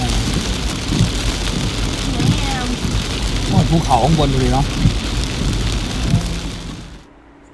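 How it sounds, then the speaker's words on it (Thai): Steady heavy rain pours throughout in Saraburi Province, Thailand, with a voice speaking briefly over it, fading out at the very end. "หนี่ขนาดฝนตกตกๆนะ"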